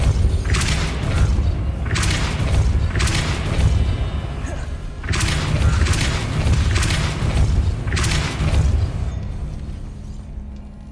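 Spell effects cast in the video game Hogwarts Legacy, including Depulso, come as three heavy whooshing blasts with deep booming rumbles, evenly spaced over a constant low drone.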